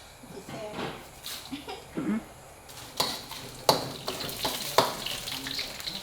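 Chili peppers frying in oil, with intermittent sizzling bursts and clatter of a pan or utensils, close by, under talking.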